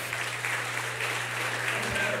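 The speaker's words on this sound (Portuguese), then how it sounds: "Aplauda ao Senhor, irmão." A church congregation applauds, a dense steady wash of clapping across the whole moment, with a voice faintly underneath.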